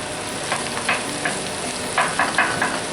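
Eggs fry in a cast iron pan for bacon fried rice, a steady crackling sizzle with a few louder spatters and bursts of stirring, with no talk.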